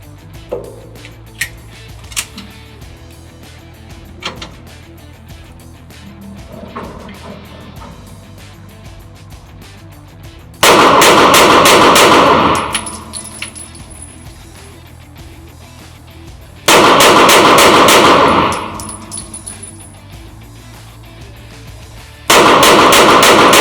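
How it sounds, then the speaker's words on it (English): Rapid pistol fire at a target in an indoor shooting range comes in three loud, dense bursts of five shots each, separated by quieter stretches of faint background noise. "each time now I'm going to have to bring the pistol up to the target and fire 5 shots on each exposure"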